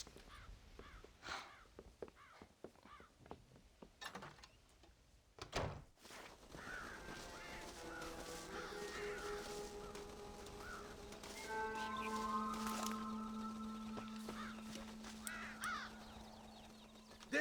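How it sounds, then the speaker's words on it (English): Crows caw repeatedly in the video game Red Dead Redemption, with harsh calls scattered through the scene among a thud like a door, ambient game sounds and a sustained tone later on. "Damn crows!"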